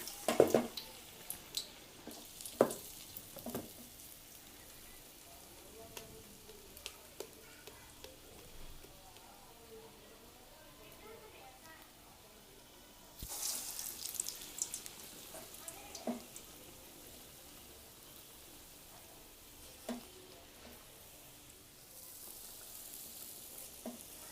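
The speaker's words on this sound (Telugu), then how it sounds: "హోల్ చేసి ఇలా వేసేసేయండి." Medu vada batter dropped into hot oil, giving a soft, steady sizzle throughout with scattered faint clinks and splashes and a brief louder burst partway through, fairly quiet and with no speech.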